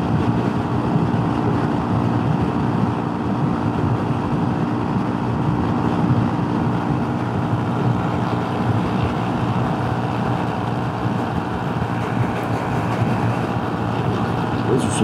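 Steady, loud engine drone and wind rush while riding a Honda Super Cub across the Great Basin Desert on a long-distance scooter rally, continuous and close throughout with no pauses.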